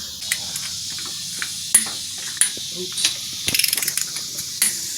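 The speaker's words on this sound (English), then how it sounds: "Damn torque wrench." A torque wrench ratchets while engine bolts are tightened on a 2004 Grand Am GT 3.8L V6. Faint, quick clicking comes in short bursts, including one rapid run of clicks, against light workshop background noise.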